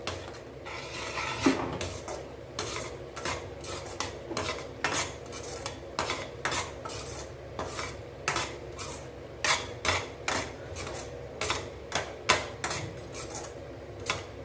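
A metal spoon scrapes and clinks against a pot while stirring ragi kichadi in a steady rhythm, repeated strokes every second or so, close and fairly quiet.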